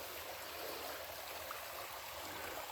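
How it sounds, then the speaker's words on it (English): A small creek flows with a steady, even rush of water, faint and continuous, with no other sounds standing out. "Pretty little creek though, huh?"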